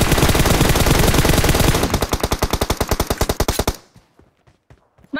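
Rapid automatic gunfire in a shooting video game, a dense loud burst that thins into distinct evenly spaced shots before cutting to near silence with a few faint clicks and a final hit.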